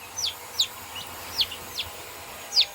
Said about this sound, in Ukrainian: Так, це курчатко бербезє.